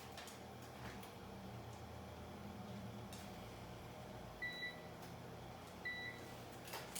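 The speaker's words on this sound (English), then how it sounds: "I'm going to turn on my oven here." An oven is switched on with two short pairs of electronic beeps a little over a second apart, heard faintly over a quiet kitchen background hum.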